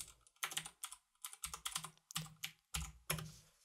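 Keys clatter on a computer keyboard during a C# programming session, several short bursts of quick, crisp clicks separated by brief pauses, close and fairly quiet.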